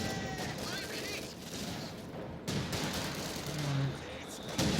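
Gunfire in Company of Heroes 2 on the Semoisky Winter map, with bursts of machine gun fire amid dense, continuous battle noise and scattered shots.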